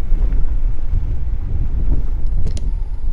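Loud, close wind buffeting the microphone in heavy low rumbles at a rooftop tent festival in Hameln, continuous for a few seconds, with faint sharp clicks near the end.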